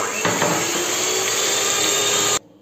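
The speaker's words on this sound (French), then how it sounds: "on va prendre les 4 œufs. D'accord? Et on va commencer à les mélanger un petit peu" An electric mixer beating four eggs for a marble cake, a loud steady motor whir running continuously before cutting off abruptly near the end.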